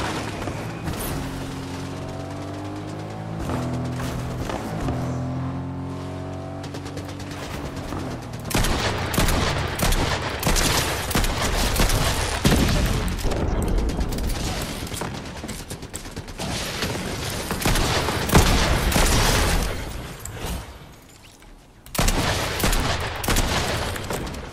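Sustained gunfire in a Fortnite Zero Build match: after a few seconds of quieter game sounds, dense bursts of shots and impacts crackle loudly and fairly close for most of the stretch, with a brief lull near the end before firing resumes.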